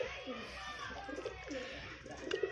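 Soft, intermittent cooing from pet pigeons in a rooftop loft, faint and somewhat distant, with a few brief sharper sounds and light background noise.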